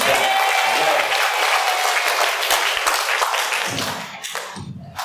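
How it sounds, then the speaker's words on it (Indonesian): Dense audience applause at a school Ramadan Quran-study camp, loud and steady clapping from a crowd of students that tapers off over the last second into scattered claps. "Oke, tepuk tangan buat Nasya."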